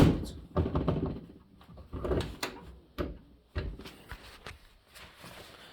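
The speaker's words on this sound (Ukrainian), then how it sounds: "Двері як нові стали закриватися знову." A Fiat car door swings shut several times, giving a series of solid thuds and latch clunks with short pauses between, fairly close by.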